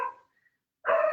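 Two short barks from a dog indoors, one at the start and another after a brief silence, fairly close and distinct.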